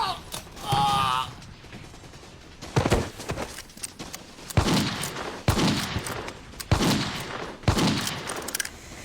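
Sharp bursts of gunfire crack repeatedly in a comedy war sketch, a rapid fusillade of loud shots spaced across the scene, with shouting voices heard in between.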